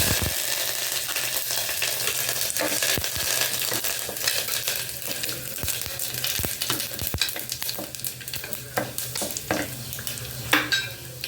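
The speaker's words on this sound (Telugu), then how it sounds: "ఎండుమిరపకాయలు, కరివేపాకు తాలింపు వేసాను." Dried red chillies and curry leaves sizzle in hot oil with black gram, mustard seeds and cumin for a tempering, a steady close hiss dotted with sharp pops and crackles.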